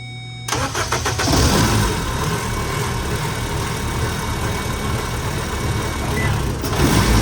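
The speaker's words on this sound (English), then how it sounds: "as soon as he added power, the whole engine changed" A Miata car engine with a K-series swap and no VTC rumbles loudly and steadily, its pitch rising and churning as it revs up, with a brief change near the end.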